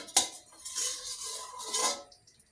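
A spoon scrapes and clanks around a metal pot as boiled meat is stirred together with the other ingredients for tas kebab, with a sharp knock at the start followed by two longer rasping stirs, close and fairly quiet.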